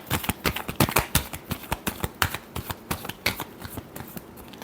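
Tarot cards are shuffled up close in a brisk, continuous flurry of crisp slaps and riffles, with a quick uneven rhythm and no voices.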